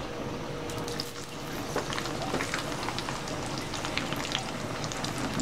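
Shallots and garlic frying in oil give a lively, crackling sizzle, a dense bubbling hiss that holds steady throughout and swells slightly toward the end.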